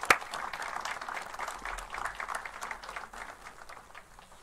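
Faint applause from a book-talk audience welcoming Dr. Ramjan Hasaniya to the stage. A sharp first clap opens a soft, steady patter of many hands heard from a distance, which slowly thins and fades over several seconds.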